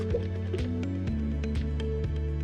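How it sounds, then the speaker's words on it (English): Water and oil slosh inside a lidded container as it is shaken, giving soft repeated liquid splashes and knocks, faint beneath a steady musical drone. "Give it a little shake."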